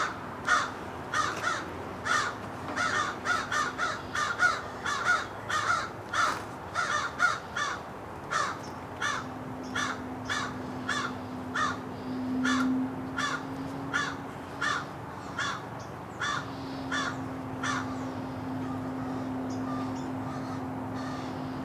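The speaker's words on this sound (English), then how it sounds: "Birds. I hear a lot of birds." Crows caw repeatedly in irregular bursts, many harsh calls overlapping at moderate distance, over a low steady hum.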